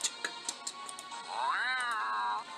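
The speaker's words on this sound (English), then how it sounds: "That was a cat." A single drawn-out meow from a grumpy cat rises and falls near the end, preceded by faint scattered ticks and household noise.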